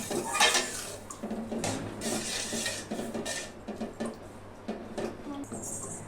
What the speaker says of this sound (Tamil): கைவிடாமல் கிண்டிகிட்டு இருக்கணும், இல்லைன்னா கெட்டியாயிரும் ரவை.